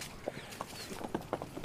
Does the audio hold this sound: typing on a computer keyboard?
no